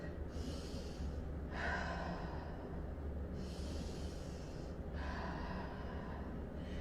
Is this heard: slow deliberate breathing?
yes